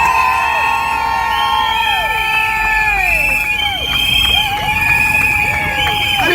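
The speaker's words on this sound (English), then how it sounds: "let's hear a round of applause for London and the campaign against dolphin" A protest crowd at a Taiji Action Day rally in London against dolphin slaughter cheers loudly and continuously, with high shouts, whoops and whistles rising over clapping underneath.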